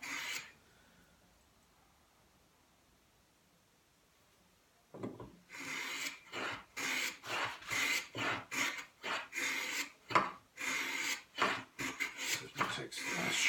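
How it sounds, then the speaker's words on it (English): A hand edge plane shaves waste from a wooden workpiece, rhythmic rasping strokes up close that begin after several seconds of near silence. "I'm going to use an edge plane to take off some of the waste over here."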